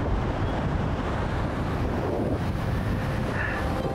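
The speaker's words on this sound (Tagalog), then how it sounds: "Nalakas na hangin." Strong wind on the coast of Biri Island blasts steadily across the microphone as a loud, unbroken roar, with no voices.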